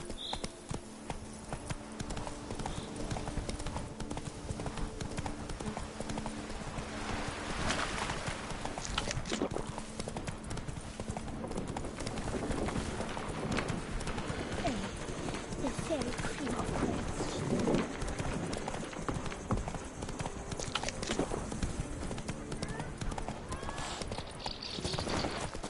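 Horse galloping in The Witcher 3, a steady, fast clip-clop of hooves running on and on at close range, with occasional speech over it.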